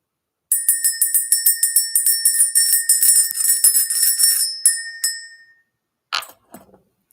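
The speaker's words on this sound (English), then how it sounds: "Let's go ahead and ring this bell." A small bell rings in a rapid run of bright, clear strikes, each chiming and overlapping for several seconds before fading, followed after a pause by a couple of softer, scattered tinkles.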